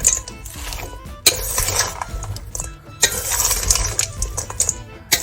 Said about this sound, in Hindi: अब हमने इसको अच्छे से मिक्स कर लेना है